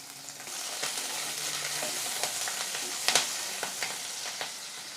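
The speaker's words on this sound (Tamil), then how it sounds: "இந்த 3 பச்சை மிளகாயும் சேர்த்துக்கலாம்." Green chillies fry in hot oil with spices, giving a steady close sizzle with a few sharp pops and stirring clicks, no voices.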